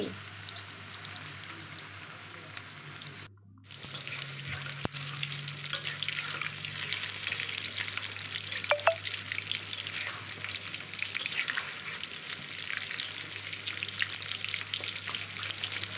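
Chicken pieces for homemade chilli chicken fry in a pan, giving a steady, close sizzle throughout with a brief dip near the start and a few faint clinks of stirring.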